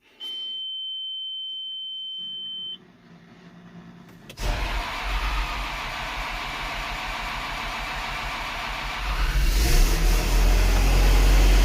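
A Case Patriot 3330 sprayer sits quiet at first, then a steady electronic beep tone sounds before the engine cranks and catches, settling into a loud, rumbling idle that grows heavier near the end.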